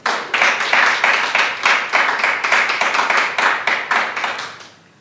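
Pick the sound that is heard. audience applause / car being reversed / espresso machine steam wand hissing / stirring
audience applause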